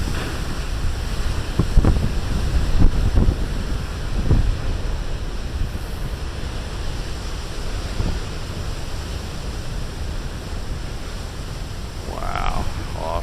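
Big ocean waves surge and crash at Beavertail Lighthouse under strong wind. A constant roar of surf and wind buffeting the microphone runs throughout, with a few heavier thumps of breaking water.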